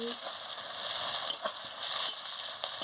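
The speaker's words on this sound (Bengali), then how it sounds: "এবারে আদা বাটা দিয়ে দিচ্ছি রসুন বাটা দিয়ে দিচ্ছি দিয়ে ভালো করে মশলাটাকে ভেজে নিচ্ছি" Ginger and garlic paste with spices frying in a pan, a steady soft sizzle with a few faint stirring clicks, close and alone.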